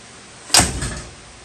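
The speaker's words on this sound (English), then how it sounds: "the door won't shut firmly because there's no weather stripping around the door" A Ford Mustang II car door with no weather stripping swings shut in one loud, hollow slam that rattles briefly as it fails to latch firmly, heard alone and close.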